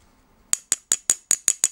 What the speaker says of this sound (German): Hört ihr das? Das ist kein Plastik. Das, die komplette Kamera ist aus Metall.